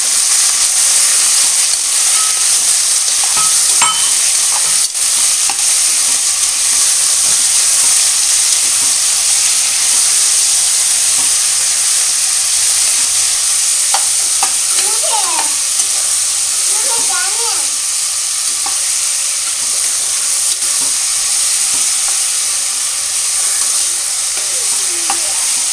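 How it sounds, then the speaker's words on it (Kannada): Chopped mixed vegetables for a vegetable pulao fry in oil in a pan, making a steady, close hissing sizzle with occasional stirring scrapes that lasts throughout. "ಎಲ್ಲ ತರಕಾರಿ ಹಾಕ್ಕೊಂಡು ಎಣ್ಣೆಯಲ್ಲಿ ಚೆನ್ನಾಗಿ ಫ್ರೈ ಮಾಡ್ಕೊಳ್ಬೇಕು."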